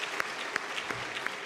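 Applause from a church congregation during a Sunday afternoon service as children who won prizes at a drawing contest and a writing contest come forward, steady clapping with a few sharper claps standing out, moderately distant.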